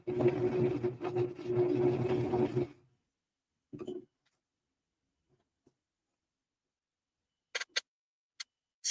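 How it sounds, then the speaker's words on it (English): A sewing machine stitching a papercraft piece in a craft room: a close, steady mechanical whirring hum runs for about three seconds, then stops, followed by a brief second whir and a few scattered clicks. "Oh, Casey Allen, you gotta put the presser foot back down so it actually holds everything"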